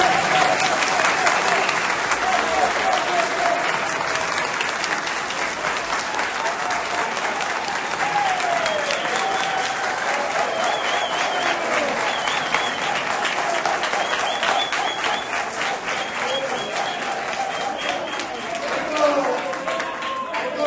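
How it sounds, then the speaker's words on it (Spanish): At a political rally, a large crowd applauds in a dense, sustained roar of clapping that lasts throughout, loud and close, with cheering voices and chatter mixed in. "Démele un aplauso."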